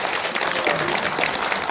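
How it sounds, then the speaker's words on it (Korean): An audience at a barefoot-walking symposium in Korea breaks into steady applause, a dense, even wash of clapping that fills the whole moment. "여러분들 국회 이 수뇌부들한테 박수 한번."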